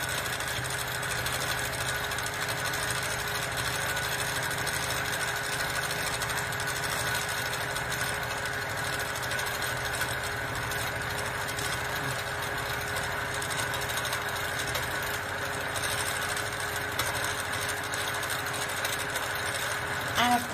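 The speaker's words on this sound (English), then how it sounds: "I'm setting the stitch length by the speed at which I move the machine" Quilting machine stitching a Big Dream panel by Lizzy Allen, giving a steady, continuous mechanical whir and hum that holds evenly throughout without pause.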